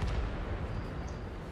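A single heavy boom from a tank cannon in World of Tanks, a Tier X T57 Heavy match, loud and close with a dull rumbling tail and no talk.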